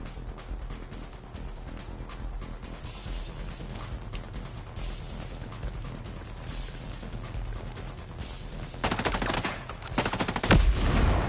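Gunfire from the video game Ghost Recon Breakpoint, with dense, sustained rapid shots running through the clip and a louder, harsher burst near the end. No distinct reload sound stands out.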